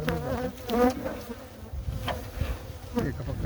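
Honey bees buzz close by in a dense swarm around hives during oxalic acid varroa treatment, a continuous droning hum with individual bees rising and fading.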